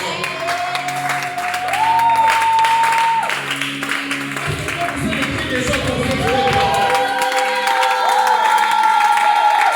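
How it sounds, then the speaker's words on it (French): A church congregation applauding and cheering, sustained clapping and shouts from a crowd with a loud held tone and music layered underneath. "Est-ce qu'on peut acclamer pour cette parole?"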